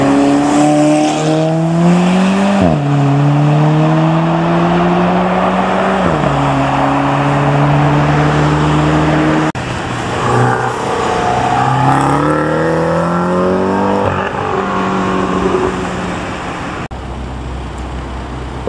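A Ford car revs hard and drives past in a supermarket car park, its engine note climbing through several rising pulls and gear changes, loud and close, then easing as it passes.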